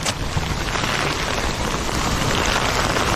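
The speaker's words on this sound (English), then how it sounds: "The problem is not the rain, it's the wind. Oh yeah, the wind is pushing all this rain." Heavy, wind-driven rain pours down in a dense, continuous roar that stays loud and steady throughout, with no voices.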